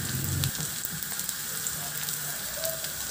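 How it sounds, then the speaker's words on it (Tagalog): Garlic sautés in hot oil in a pan with a soft, continuous crackling sizzle and a brief louder burst at the start, heard faint and close with no voices. "Magpainit na rin ako ng mantika sa kawali at igisa ko na rin yung bawang."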